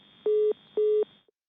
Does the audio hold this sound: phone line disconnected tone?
yes